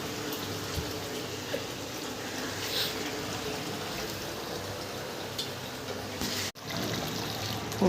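Water is poured into chicken curry in a kadhai, a steady close trickling and splashing that runs continuously with a brief break near the end.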